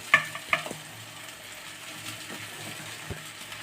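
Flattened rice (chira) coated with turmeric and salt drops into a pan of frying spices, giving a couple of sharp clatters and stirring scrapes followed by a faint, steady sizzle.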